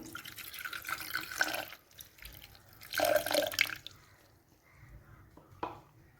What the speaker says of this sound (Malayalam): ഇനി ഇതിലേക്ക് നമ്മുടെ ഈ കരിക്കിൻ്റെ വെള്ളം കൂടി ഒഴിച്ചു കൊടുക്കാം